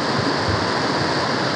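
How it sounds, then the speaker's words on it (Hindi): Rushing floodwater after heavy rain near Ambarnath's Shiv Mandir, a loud steady broadband roar of flowing water without pauses or voices. "ये देखो पानी कितना बह रहा है."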